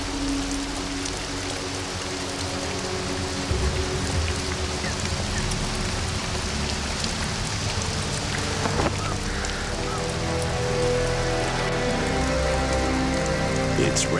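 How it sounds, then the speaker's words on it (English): Steady rain falls on a surface, a continuous dense patter throughout with a few brief louder knocks and faint honking-like tones in the background. "It's raining."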